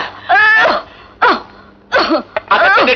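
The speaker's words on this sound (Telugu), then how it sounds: "ఏమిటి మళ్ళీ దగ్గుట?" A person coughs and clears their throat in several short, harsh bursts separated by pauses, close and fairly loud, with no other sound around them.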